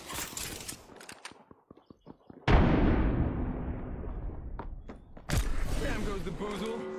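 A grenade blows up in a battle royale video game with a loud sudden blast and a long rumbling decay. Game sounds, brief voice chatter and clicks come before it, and another sharp burst follows a few seconds later.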